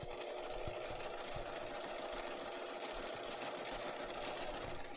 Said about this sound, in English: now we're just going to top stitch right along there to hold that seam allowance in place